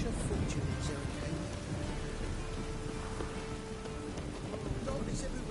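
Rain pours steadily in a PS4 video game, a dense continuous hiss with faint drop textures and soft sustained tones underneath, without a break.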